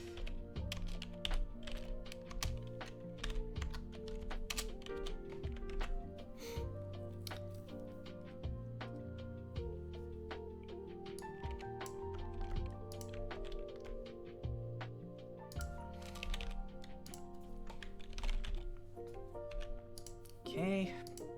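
Fast typing on a computer keyboard, a steady stream of light clicks and taps running throughout under a dense layer of background music or game sound, with no talk over it.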